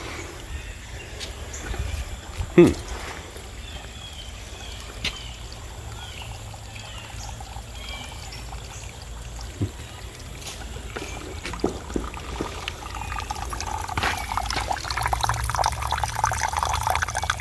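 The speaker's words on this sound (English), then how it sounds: "Nice little trickling stream that goes on up the hill." A small stream trickles downhill through a spring park in southwest Missouri, a continuous gentle babble and gurgle heard nearby, growing somewhat fuller and louder toward the end, with no voices.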